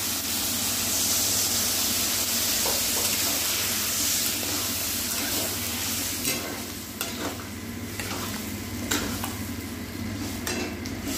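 Water poured into a hot pan of frying poppy seed paste for a potato and drumstick poppy seed dish, giving a loud continuous sizzle and hiss with scattered stirring scrapes and clinks throughout.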